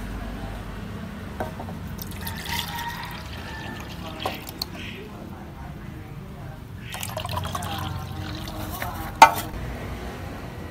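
Water is poured and trickles while aquarium guppies, Dumbo Black Moon fish, are being moved, in soft intermittent splashes and drips at close range.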